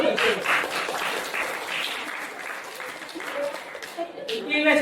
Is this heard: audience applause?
yes